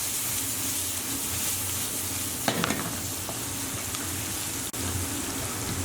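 Ground turmeric, cinnamon, black pepper and salt being stirred through rice for Persian adas polo, a steady hissing scrape of the spoon in the pan with a couple of sharper knocks, close and continuous with no talking.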